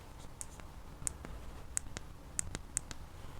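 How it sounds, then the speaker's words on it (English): Physical buttons on an Honor WIN phone pressed several times, giving sharp, cheap-sounding clicks at close range, spaced irregularly over a quiet background. "it's an actual physical button that sounds very clicky and cheap, really"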